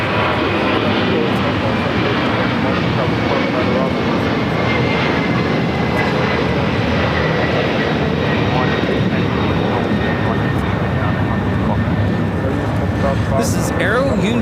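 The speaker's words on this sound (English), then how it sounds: "This is Aero Union 7005 taking off to Monterrey, Nuevo León, Mexico on the A300." An Aero Union Airbus A300 jet taking off from LAX, a loud continuous engine roar filling the whole stretch, with a voice talking over it.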